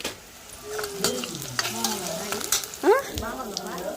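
Packet pasta being cooked in a pan, with soft sizzling and intermittent stirring scrapes at close range, plus a brief voice-like sound near the end.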